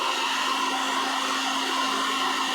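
A hot air gun heats a PVC pipe to form a socket, giving a steady, loud whooshing blower hum with a faint high tonal whine that runs unbroken throughout.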